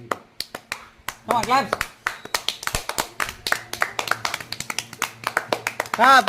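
Several people clap in uneven bursts at a village speed contest peeling lemons, sharp hand claps and slaps close by with a voice calling out between them.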